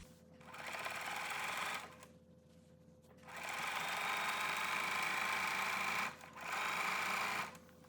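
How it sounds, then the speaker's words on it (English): A sewing machine stitches a flannel rag quilt seam at a 5/8-inch allowance, running in steady loud bursts with short pauses between runs, a continuous motor whir and needle clatter close by. "we're gonna sew this with a 5/8 of an inch seam allowance."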